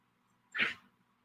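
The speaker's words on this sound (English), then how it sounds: "dog is trying to get in here" A dog trying to get into a room gives one brief, sharp yip or huff that is close and fairly loud, with quiet room tone before and after.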